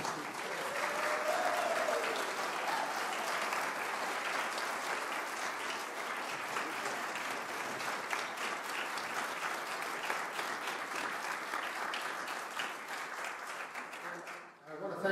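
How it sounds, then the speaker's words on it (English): Sustained audience applause fills a candidates forum for Maryland Legislative District 30, a steady dense wash of clapping from a room of citizens that holds for most of the stretch before tapering off at the end, with faint voices beneath. "Well, now it's appropriate to applaud and thank them."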